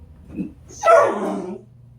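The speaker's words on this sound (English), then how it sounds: "That is my dog." A house dog gives a short, sharp bark close to the microphone, with a faint yip just before it, set against quiet indoor room tone.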